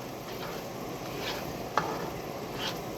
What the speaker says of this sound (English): We're going to stir this a little. We'll let that cook down for a little bit before we add our beef stock.